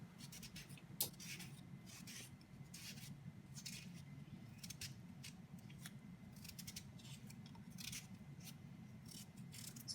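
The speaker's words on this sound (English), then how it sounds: "Okay, and this is the other way of dicing a potato." A knife dicing a potato freehand, without a chopping board: quick, faint, scratchy cutting strokes in irregular bursts over a low, steady room hum, with no talking.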